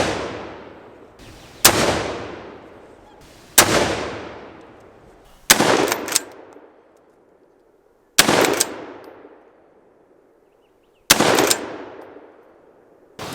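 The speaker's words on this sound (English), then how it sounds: "here's some footage of firing with it on" A Wedgetail MPR308 rifle in .308 with a 16-inch barrel and blast deflector fires five loud single shots spaced a couple of seconds apart, each a sharp crack followed by a long echoing decay outdoors.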